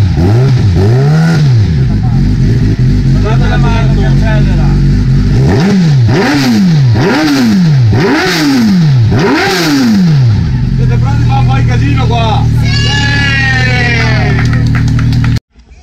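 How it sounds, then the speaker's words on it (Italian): Motorcycle engines fire up and rev loudly in repeated rising-and-falling surges, close by, with a rough idle and rattling in between. "siete pronti a sentire in moto? Dai che ve le accendo, facciamo un po' il casino"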